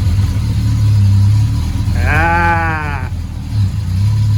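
Engine of a rusty 1975 Triumph TR6 running loud and close as the car moves forward onto grass, with a rumbling low drone and a brief bleating voice partway through.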